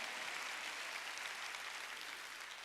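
Faint, continuous clapping from a church congregation during a Sunday service, a soft even wash of hands with no clear individual claps, heard from a distance.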